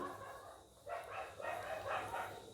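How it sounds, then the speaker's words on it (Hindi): Two dogs fight and bark outdoors at night, distant and faint, a few muffled barks and snarls in quick succession after a short quiet stretch. "देखो अभी कुत्ते का लड़ाई चल रहा है, शायद तुम लोग को आवाज सुनाई दे रहा होगा।"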